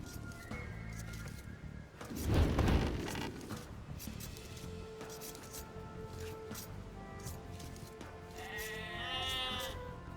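Sheep bleat over steady game ambience in Age of Empires 2 Definitive Edition, with one loud bleat standing out against a continuous background bed and softer calls later.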